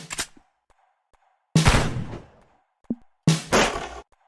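Gunfire in a game jam video game, with three short sharp bursts of shots separated by silence and a faint blip between them.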